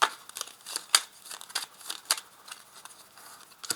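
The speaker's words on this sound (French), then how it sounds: "Je vais tirer une carte." A tarot card is drawn from a deck of major arcana cards, giving a series of sharp papery snaps and soft slides in quick irregular bursts, close up and fairly quiet with no talking.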